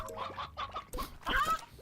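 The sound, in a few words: chickens clucking in the video game Slime Rancher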